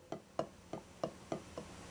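Six very soft drum strokes, played pianissimo, fall in a steady, even rhythm over about two seconds. Each one is a faint, brief tap that sounds close, with quiet between the hits.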